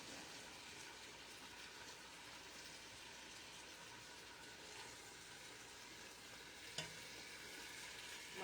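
Onions stirred and sautéed in a tall pot for Filipino pancit, heard as a steady close frying hiss with soft scraping movement throughout and one brief knock near the end.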